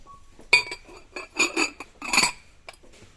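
A glass candy jar, 33 cm tall, being handled, giving several sharp clinks and taps of glass in quick, irregular succession close up.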